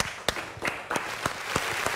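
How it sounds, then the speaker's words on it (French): An audience applauds at a talk show on seduction in couples, a brief burst of scattered clapping with sharp individual claps over a continuous crowd wash. "Applaudissez, s'il vous plaît."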